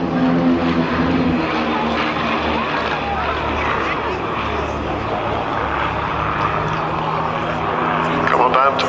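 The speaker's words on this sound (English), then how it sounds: "So the 3 aircraft on the right, with 1 aircraft on the left to cross over in the middle now." Aircraft flying in formation at an airshow, a continuous loud engine drone holding steady with a faint rise near the end, while an announcer talks over it throughout.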